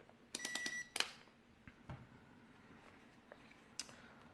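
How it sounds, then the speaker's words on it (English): A UEI UTLDM2 multimeter gives a quick run of electronic beeps while its ranges are switched, followed by fainter clicks and one more beep later, alone with no talk. "So you change the ranges and beep, beep, beep, beep."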